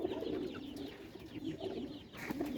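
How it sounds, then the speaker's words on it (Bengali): Club pigeons kept in a loft coo softly and repeatedly in low, throaty bursts, with faint chirps and background ambience and no talk. "আচ্ছা দেখি কবুতরগুলো"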